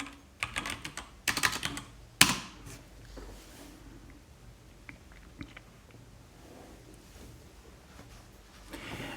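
Someone typing a terminal command on a computer keyboard, a quick burst of close, crisp key clicks at the start that thins to sparse taps and then near quiet, with no talk.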